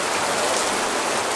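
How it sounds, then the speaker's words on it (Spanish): Heavy rain downpour in Puerto Rico, a dense, steady hiss of water pouring onto surfaces, loud and unbroken with no voices. "Y mira este aguacero."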